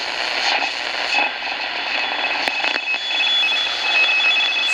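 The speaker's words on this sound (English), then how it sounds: "Is that the buzzer from Russia?" A Russian shortwave buzzer station comes through an old Magnavox radio as a steady tonal drone with faint static and a brief crackle midway, moderately loud and alone.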